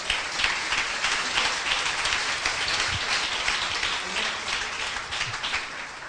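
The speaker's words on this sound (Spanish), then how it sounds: "Un aplauso fuerte al Señor." Church congregation clapping in a Spanish-language sermon setting, a sustained wash of applause with scattered shouts, fairly loud and continuous throughout.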